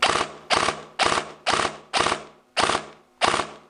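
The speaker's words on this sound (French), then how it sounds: "Je vous remets la rafale de 3." A Systema PTW airsoft rifle fires sharp, loud, close bursts, seven cracks spaced about half a second apart, each with a short mechanical rattle, no voices.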